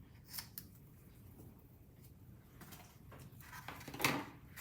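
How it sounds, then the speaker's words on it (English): Scissors snipping ribbon at a papercraft table while a small gift box for cards is finished, a few quiet crisp cuts and light handling noises spread across the moment, close up, no voices. "Let's cut off some of our ribbon."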